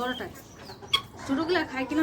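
Several native chickens cluck in short, nearby bursts, with a few higher calls mixed in and a person talking.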